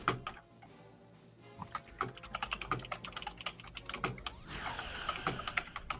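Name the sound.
fast typing on a computer keyboard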